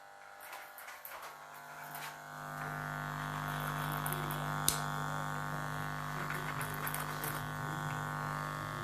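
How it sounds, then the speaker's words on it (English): Home electric hair clippers cutting hair clipper-over-comb during a short back and sides fade, with a steady close buzzing drone that rises after a couple of seconds and holds, plus faint snips and brushing. "A clipper over comb."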